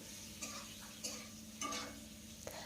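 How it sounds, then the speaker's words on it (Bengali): Potato pieces fry gently in oil in a pan, a quiet soft sizzle with a few scraping stirs and light clicks, close by, with no talking. "এখন আলুটাকেও হালকা করে ভেজে নেব প্রথমে"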